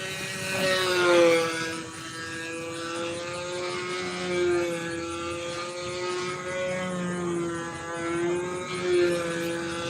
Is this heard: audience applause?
no